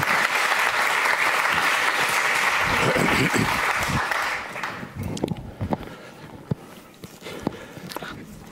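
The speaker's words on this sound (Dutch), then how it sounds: "Geef hem een warm applaus." A festival audience at a lecture on the Eichmann trial breaks into warm applause, dense and loud clapping for several seconds that then thins into scattered claps and footsteps.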